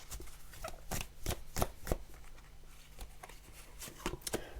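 A deck of oracle cards is shuffled by hand, a close, soft rhythm of riffling and slapping card bursts continuing steadily without talk.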